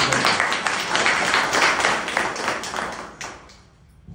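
A church congregation claps together, a dense, steady burst of many hands that holds for several seconds before thinning out toward the end.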